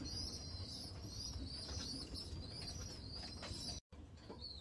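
Young pigeons nearly ready to leave the nest coo in a family loft, a soft continuous murmur with steady chirping over it and no talk.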